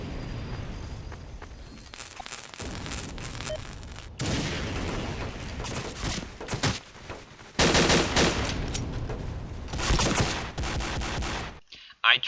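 Heavy machine gun fire from an HMG turret in the Empires video game rattles in long, loud sustained bursts, broken by short pauses, footsteps and a final booming impact.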